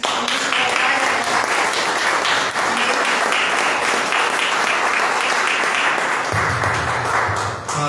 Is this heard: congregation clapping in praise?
yes